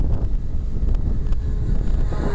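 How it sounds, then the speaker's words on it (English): Strong wind buffeting the microphone at an RC airfield during an electric twin-engine plane flight, a loud, continuous rumbling roar with no break across the short stretch. "That wind's chonking it around"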